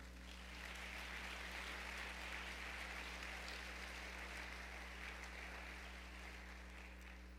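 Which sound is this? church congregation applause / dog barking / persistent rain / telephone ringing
church congregation applause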